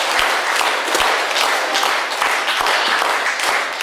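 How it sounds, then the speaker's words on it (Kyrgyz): An audience at an evening literary and music gathering bursts into steady, dense applause for a family on stage, the clapping sustained and loud throughout with no voices over it. "Бактылуу үй-бүлөгө бир кол чаап коюңуздар."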